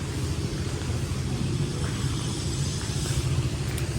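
A low, steady engine drone rumbles throughout, like a petrol mower running nearby, with no talk over it.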